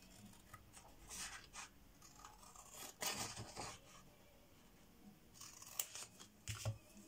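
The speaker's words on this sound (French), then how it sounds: "On va découper un peu ici parce que c'est trop large." Scissors snip through handmade collage paper in short, crisp cuts, close and quiet, with a few small rustles between snips and no voices.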